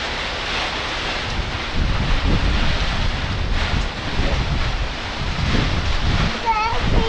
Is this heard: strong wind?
yes